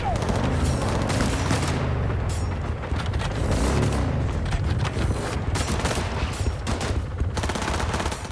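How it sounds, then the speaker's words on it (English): Dense, sustained gunfire in the video game Cyberpunk 2077 on hard difficulty, a loud, continuous fusillade of overlapping shots and bursts with booming impacts, lasting throughout with little pause. "I don't know why they're shooting."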